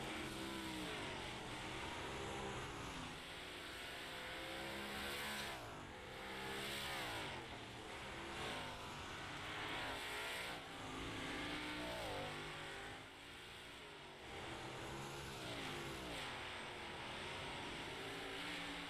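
Race cars lapping the I-55 Speedway oval, loud and continuous, engines rising and falling in pitch as cars sweep past one after another over a steady roar, with no talk.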